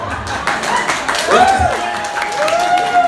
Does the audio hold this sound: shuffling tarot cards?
no